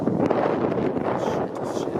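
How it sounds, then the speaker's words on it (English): Strong wind roars across the microphone in a dense, continuous rush, with gusts rising and easing slightly, no voices heard. "Very windy today, in fact."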